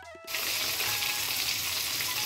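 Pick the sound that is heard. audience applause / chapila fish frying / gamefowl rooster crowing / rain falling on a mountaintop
chapila fish frying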